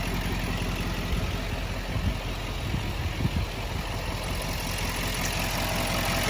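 An L5D Duramax diesel in a 2019 Chevy 5500HD 4x4 tow truck idles close by, a steady low rumble with rough, uneven diesel knocks running through the whole stretch.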